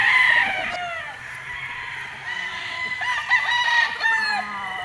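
Pure white Kelso gamefowl roosters on a game farm crow in long rising calls, several birds overlapping near and farther off, with scattered clucks between crows.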